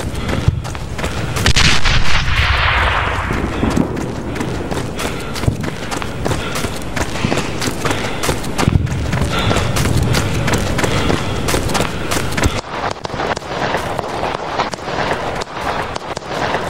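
A grenade thrown and exploding in the PC war game Fog of War: a dense, loud rumbling blast amid continuous battle noise of gunfire, running and thuds, with no clear speech.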